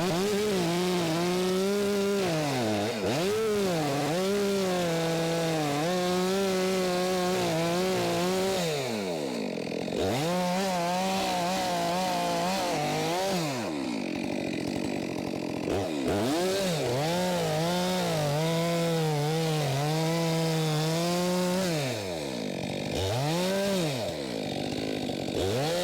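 A chainsaw bucks firewood logs with undercuts and top cuts, its engine loud and close, revving and bogging down through several cuts in a rising and falling rhythm with brief idle dips between them.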